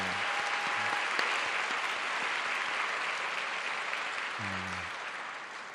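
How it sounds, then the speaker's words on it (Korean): Sustained, dense applause from a large church congregation for the worship band fills the room, steady and loud, with a brief voice at the start and a note near the end. "우리 연주팀에게 우리 한번 감사 격려 박수 한번 드리겠습니다"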